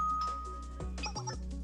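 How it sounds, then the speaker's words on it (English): A doorbell in the Blue Archive game rings with a quick two-tone ding-dong chime, clear and fairly soft against a faint musical background, with no voices. "That was a doorbell?"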